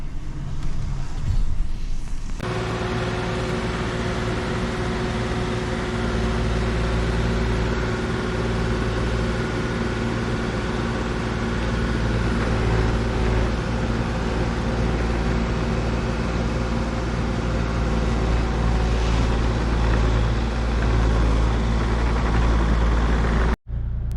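A brand new 2025 GMC Sierra 3500HD Pro pickup truck drives along with a steady, loud low engine and road rumble heard from inside the cab, ending abruptly.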